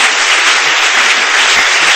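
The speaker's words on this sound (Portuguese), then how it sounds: "aplauda o Senhor, porque Ele está aqui nesse lugar" A church congregation applauds loudly and continuously, a thick wash of many hands clapping close and steady with no voices standing out.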